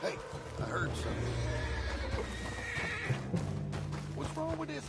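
A horse whinnies in Red Dead Redemption 2, a shrill neigh rising over dense game ambience with scattered hoof clops and background activity.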